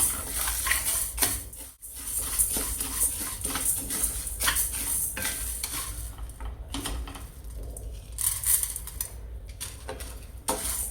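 Horse gram and toor dal being dry roasted together in a pan over a slow flame, giving a steady close scraping, rattling stir of grains against metal with clinks of the utensil throughout.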